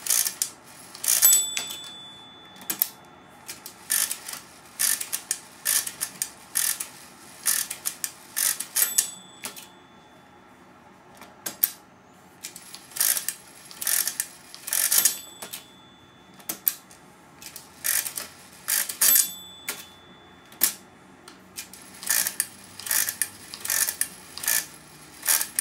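A Brunsviga 13RK mechanical calculator is worked by hand in repeated bursts of clicky, ratcheting crank turns. Bright bell rings and carriage shifts mark the gaps, loud and close with no talking.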